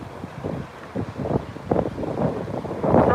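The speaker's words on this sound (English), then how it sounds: "I feel like the wind's going to blow my tripod over if I'm not careful." Strong gusting wind buffets the microphone outdoors at a plane-spotting spot near Heathrow, a loud low rumbling roar that swells and surges.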